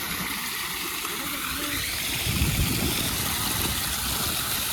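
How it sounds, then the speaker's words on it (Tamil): Water overflows the edge of a pool at Lalitha Mahal Palace in Karnataka, a steady, close rushing and splashing wash that fills the whole stretch without pause. "தண்ணி ஓவர்ஃப்ளோ ஆகிற மாதிரி"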